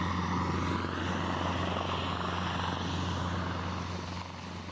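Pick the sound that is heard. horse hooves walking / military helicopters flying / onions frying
military helicopters flying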